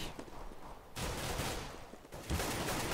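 AK rifle gunfire in Counter-Strike on the Mirage map, rapid bursts of shots rattling close and loud across the whole moment, with brief gaps between volleys.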